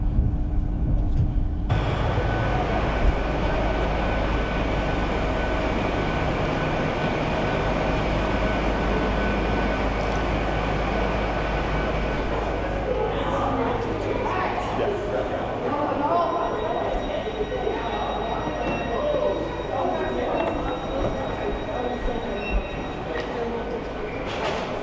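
A passenger train bound for Liverpool Lime Street rumbles steadily along with a continuous low roar and rattling, wheels and carriage noise filling the scene from start to finish.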